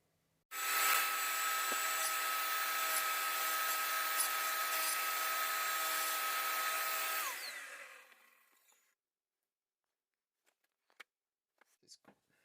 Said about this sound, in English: So I'll have a go at grinding this.